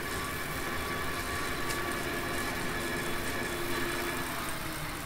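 Tractor engine idling in the Cattle and Crops farming game, a faint, steady low rumble with a slight vibration, continuous and alone with no talk.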